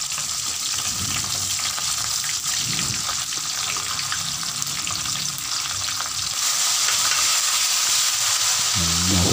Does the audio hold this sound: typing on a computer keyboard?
no